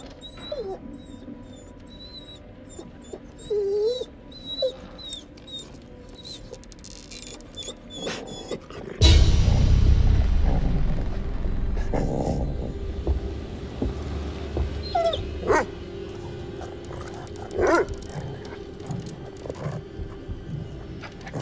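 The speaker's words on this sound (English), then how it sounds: "Whimpering." A dog whimpers faintly in a homestead scene, thin whines running under quiet ambience for several seconds before a sudden loud, low rumbling thud takes over, followed by scattered knocks.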